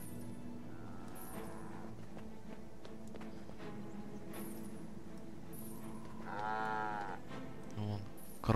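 A cow in the Guild Wars 2 video game moos, a drawn-out low call rising near the end, over quiet game ambience and music with faint clip-clop sounds.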